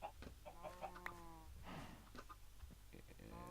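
Chickens in the Minecraft video game cluck in short bursts of several quick notes, fairly faint, with soft game sounds between them.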